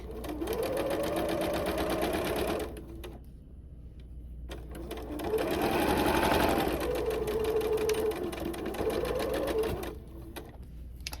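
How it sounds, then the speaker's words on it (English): Sewing machine stitching a fabric Santa hat made from scraps, running in two steady bursts of rapid mechanical whirring with a short pause between them, close and loud. "I think I'll do that and then just stitch it in, and then I'm going to do another row"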